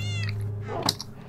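A cat meows once in the video game Minecraft, a short clear in-game cry over a steady low background hum.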